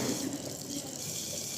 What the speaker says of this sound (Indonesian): Bilas tangan menggunakan air.